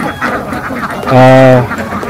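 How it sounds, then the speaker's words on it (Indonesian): Ducks foraging for leftover grain in a harvested rice field let out one short nasal quack, loud and near, while someone talks over the scene. "ini bebek-bebek yang diengon ini"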